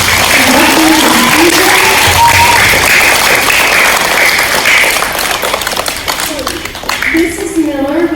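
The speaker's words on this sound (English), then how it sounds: "let's give our students one more round of applause" An audience at a school Veterans Day assembly gives the students a loud, sustained round of applause, close and full, thinning toward the end as a voice returns over the last claps.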